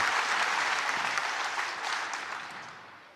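Snooker crowd at the World Grand Prix applauding a frame, a dense, sustained burst of clapping that fills the hall and gradually tapers off toward the end.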